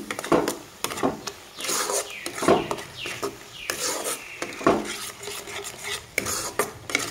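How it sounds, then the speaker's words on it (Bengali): Coriander and cumin powder masala being stirred and sautéed in a pan, close rhythmic scraping and rubbing strokes of a spatula across the pan surface, repeated steadily with no talking. "সুন্দরভাবে মশলাটাকে কষিয়ে নিব"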